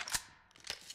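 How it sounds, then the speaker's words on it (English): Magazine change on a weapon in Call of Duty Mobile: two short metallic clacks about half a second apart, crisp and close, with a fainter click at the end and no voices. "Changing mag."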